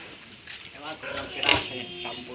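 A large sow grunts and snorts close by on a pig farm, low rough bursts mixed with faint voices and background noise.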